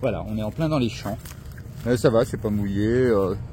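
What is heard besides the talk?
No distinct noise like a dog, phone or traffic.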